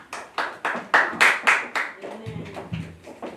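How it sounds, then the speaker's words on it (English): Church audience clapping in a dozen loud, separate claps at a steady beat, thinning toward the end, with a voice talking faintly underneath in the second half. "A good clap for her."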